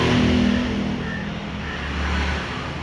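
A road vehicle passes nearby, a steady broadband engine and tyre rumble that swells, eases slightly and rises again over about three seconds, with no talk.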